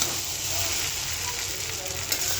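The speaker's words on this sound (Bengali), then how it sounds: "লুডুটি যে হয়ে গেছে, এক হাতে লাড়া যায় না, কড়াই চলে যায়" Noodles with peas, tomato and egg sizzle in a frying pan while being stirred, giving a steady close hiss with scraping bursts from stirring.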